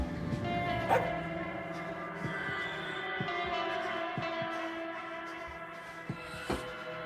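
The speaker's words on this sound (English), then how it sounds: "keep trying to quiet the dog" Zeus the dog barks repeatedly in the Dusk Falls video game, sharp barks and yips recurring at a steady pace over a constant background hum, fairly close and loud.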